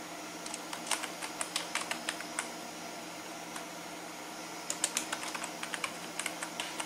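Keystrokes tap out text on a computer keyboard in two quick bursts, a run of light clicks, a pause, then another flurry of taps, close and fairly soft with no voice over them.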